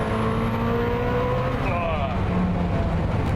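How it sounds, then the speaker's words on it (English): A Koenigsegg Jesko hypercar's engine roars loud and steady throughout, with rising and shifting tones and a possible tyre squeal, while people talk over it. "the Jesko sounds too good"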